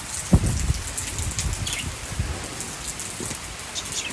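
Rainy-season rain pours steadily in Multan, a close, even hiss of drops on surfaces with occasional louder splats and no talking.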